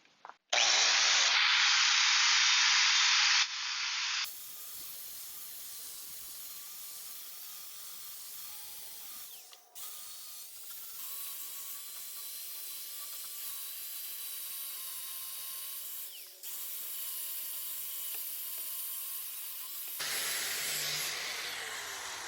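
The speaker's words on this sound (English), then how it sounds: "I've switched over to a 60 grit flat disc, and let's just see what that does" An angle grinder fitted with a 60 grit flap disc grinding the steel face of a cheap 66 lb anvil: a steady, loud whirring hiss that sustains for long stretches, with a brief pause partway and a sharper burst near the end.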